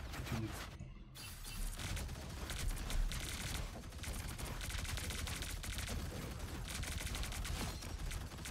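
Gunfire in the Marvel Rivals video game, a dense and steady stream of rapid shots with impacts and effects, loud and continuous throughout, briefly dipping near the start.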